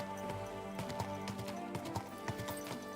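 Horse hooves clip-clop in a steady rhythm as a mount trots through Kingdom Come: Deliverance II, close and fairly loud over a constant game music and ambience bed.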